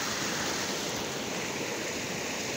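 Water pouring out of the ground like a stream makes a steady, full rushing hiss, loud and constant, with no voices.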